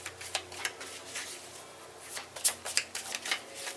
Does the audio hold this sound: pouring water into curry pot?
no